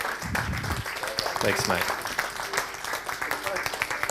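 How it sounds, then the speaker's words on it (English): Crowd applause for a speaker at a talk, a dense steady patter of clapping throughout, with someone speaking briefly over it near the start. "give Adam a big round of applause"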